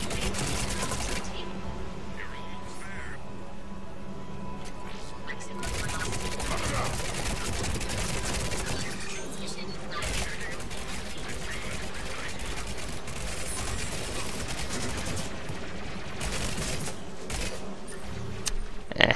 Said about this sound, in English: Long range aerial bombardment with Inferno grenades.